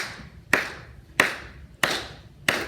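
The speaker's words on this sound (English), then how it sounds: "Clap the quarter, please." A class claps in unison on a steady quarter-note beat, four sharp, evenly spaced claps in a quiet room.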